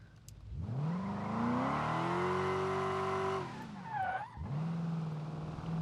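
A Ford Crown Victoria racing in BeamNG revs up and holds a loud, rising engine note, then briefly lets off with tire squeal and skidding before the engine picks up again.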